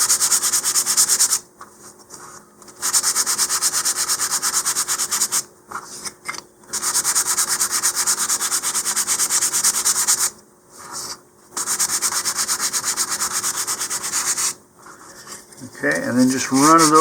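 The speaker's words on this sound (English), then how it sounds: "I'm going to move to some 220 grit sandpaper and just kind of sand everything now" Steady, rasping 220-grit sandpaper strokes on wooden model rocket fins in long continuous bursts, with brief pauses between passes and a short scrape near the end.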